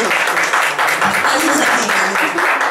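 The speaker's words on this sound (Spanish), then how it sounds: "Veo que querían aplaudir, pues venga, aplaudamos." A press-conference audience breaks into steady applause, many hands clapping in a dense, continuous patter with faint voices murmuring underneath.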